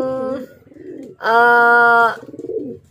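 A racing pigeon coos in a derby setting, a loud sustained harmonic coo mid-clip framed by softer, pulsing coos close by, with no talk.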